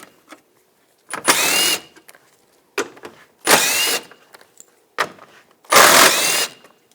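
Three bursts of a power tool driving a 10mm socket to remove the upper bolts of a 2014-2018 GMC Sierra front bumper, each burst lasting about half a second with brief quiet clicks between them, close and loud.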